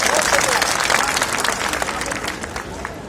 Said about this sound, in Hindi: उसके लिए एक जोरदार ताली हो जाए।